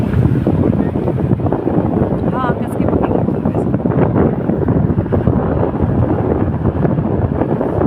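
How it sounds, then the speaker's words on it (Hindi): Cold wind gusts steadily past a waterfall among the mountains at Sonmarg, a continuous blustery roar buffeting the microphone while people talk over it. "बहुत ही ठंडी ठंडी एकदम हवा आ रही है"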